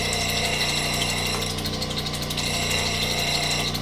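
Stone shaping machine grinding and smoothing the chipped edge of a labradorite disc on a 280 wheel, a continuous whirring motor hum with gritty rasping that shifts in texture midway.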